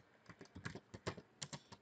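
Keys clatter on a computer keyboard in quick, uneven bursts while a database SELECT command is entered, the clicks close and fairly quiet with no voices.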